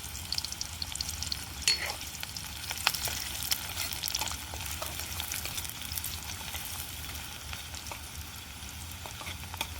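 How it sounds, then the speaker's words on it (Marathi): Onions sizzle vigorously in hot oil as the base tempering for a village-style chicken curry cooked outdoors in a field, a dense crackling hiss punctuated by spatula scrapes and stirring clinks, close and steady throughout. "सर्वात आधी कांदा फ्राय करू"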